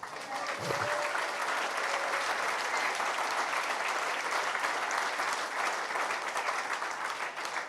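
Audience applause in a hall during a union leader's speech in Marseille, a dense, steady wash of many hands clapping at even loudness throughout, with no voice standing out.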